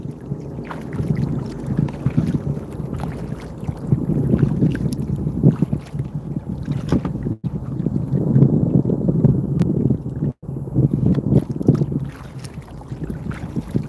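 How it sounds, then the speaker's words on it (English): Wind gusting outdoors on a fishing boat on open water, a steady rushing buffet against the microphone with rising and falling surges, no talking. "Breezy out here."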